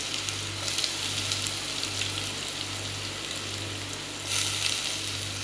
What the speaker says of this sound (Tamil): அடுத்தது கறிவேப்பிலை போட்டுக்கலாம். நம்ம வெங்காயம், இஞ்சி, பூண்டெல்லாம் க்ரஷ் பண்ணிட்டு நம்ம போட்டுக்கலாம்.